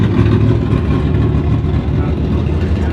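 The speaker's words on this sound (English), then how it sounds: "V8 Rumble." A V8 car rumbles loud and close, with a deep, steady idle that throbs with small revs throughout, a drift car set up for tire testing.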